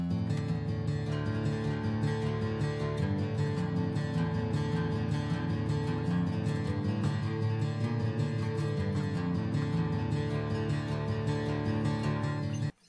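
Dense, steady guitar-driven music from Guitar Pro tab playback transposed up a whole step plays continuously with no talking, full and loud throughout, cutting off abruptly at the very end.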